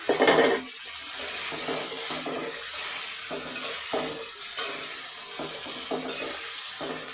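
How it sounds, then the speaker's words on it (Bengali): Hilsa fish fry in spiced oil as they're stirred, giving a close, continuous sizzle with repeated scraping stir strokes and no talk. "আমি এখন এর মধ্যে ইলিশ মাছগুলো ছেড়ে দিলাম।"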